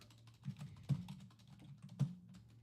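Computer keyboard typing during a live sports-card break stream, quick soft keystrokes in an irregular run over a low steady hum, with two sharper key hits standing out and no talk.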